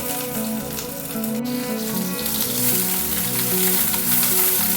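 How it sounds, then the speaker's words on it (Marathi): Ginger pieces, garlic and curry leaves sizzle in hot oil in a pan, a close, continuous frying crackle with a faint hum beneath that grows slightly louder and brighter toward the end. "तेल घालून घ्यायचं आणि या तेलामध्ये अद्रकचे तुकडे लसूण आणि कढीपत्ता देखील घालून घ्यायचा"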